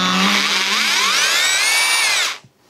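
A Makita DHR 202 cordless rotary hammer runs loud and close, its motor whine rising in pitch as the speed climbs, holding steady and then cutting off abruptly near the end.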